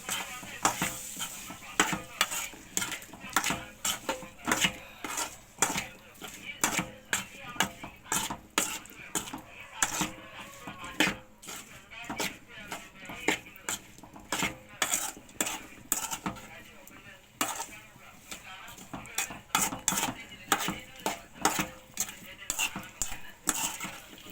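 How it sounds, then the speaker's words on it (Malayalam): A spoon scrapes and clinks in a pot while Indian gooseberry pickle is stirred with salt, with repeated close, irregular clatters throughout and no talk. "നല്ലപോലെ ഇളക്കി കൊടുക്കാം"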